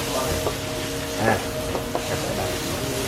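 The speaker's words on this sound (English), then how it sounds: "You mix with all ingredient. Keep stir all ingredient together." Pad Thai noodles stir-fried with mixed ingredients at an elephant sanctuary, a continuous close sizzle with a few scraping stirs and light clanks over steady background hiss.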